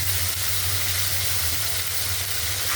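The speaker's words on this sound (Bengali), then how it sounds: "মশলাটা একটু ভাজা ভাজা হোক" Onion paste and garlic paste with salt fry in a pan, giving a close, constant sizzling hiss with a soft low bubbling underneath and no talk.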